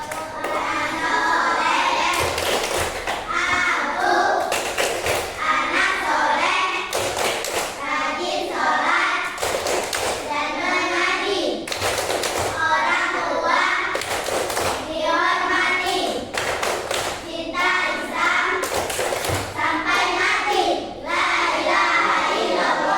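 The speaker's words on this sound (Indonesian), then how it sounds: "kita masuk dalam ice breaking tepuk tangan anak soleh" Children's clapping game in a classroom ice-breaker, with rhythmic bursts of hand claps and thumps repeating steadily while young voices chant along throughout.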